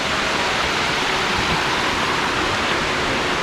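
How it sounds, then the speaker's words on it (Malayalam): A small forest waterfall sends up a loud, continuous broadband rush of falling water, steady and unbroken throughout with no voices. "ചെറിയൊരു വെള്ളച്ചാട്ടം ഉണ്ട് ഇവിടെ."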